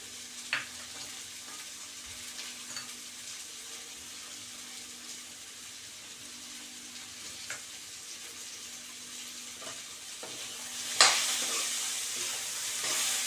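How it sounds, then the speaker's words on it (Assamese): Baby potato fry with freshly added coriander leaves being stirred in a pan, a quiet steady sizzle with soft scraping strokes and a few clicks, rising to a louder burst of stirring near the end. "ধনিয়া পাতখিনি দি ভালদৰে লৰাই"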